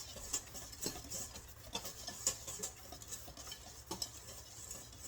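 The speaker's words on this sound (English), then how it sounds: "I'm just going to whisk that together." Whisk beating black pepper and spices into flour in a bowl, a faint, quick series of light ticking scrapes with an irregular rhythm, close but quiet.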